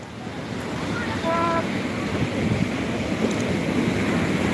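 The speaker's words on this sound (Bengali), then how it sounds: "সমুদ্রের ঢেউয়ের যে আওয়াজটা সেটা আশা করি শুনতে পাচ্ছেন আপনারা" Sea waves crashing at Puri beach: a loud, continuous roar of surf mixed with heavy wind buffeting the microphone, steady throughout.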